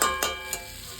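Spice paste (masala) fries in hot oil with a bright, continuous sizzle and a few sharp crackling pops, close and alone.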